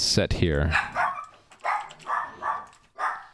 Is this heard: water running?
no